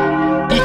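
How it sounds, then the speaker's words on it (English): A bell on a cartoon boat rings out with a sustained, resonant metallic tone, loud and close, its ringing swelling slightly near the end. "Peppa, ring the bell."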